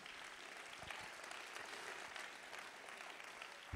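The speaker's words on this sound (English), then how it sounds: "Give the Lord a hand clap of praise." Church congregation clapping their hands in praise during a service, a continuous, fairly faint patter of many hands filling the room without speech.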